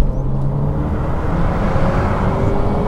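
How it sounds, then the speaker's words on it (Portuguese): Opel Astra J OPC hot hatch engine giving a steady low roar and intake blow, a continuous deep rumble close by with no pops or crackles, no voices. "Estão a ouvir? O rugir, o sopro, mas é só isso que ele faz."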